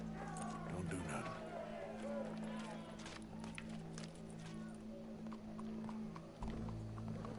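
Horse hooves clip-clop at a steady walking pace in the Red Dead Redemption 2 video game, set against a sustained low musical drone, with a voice briefly speaking over the scene.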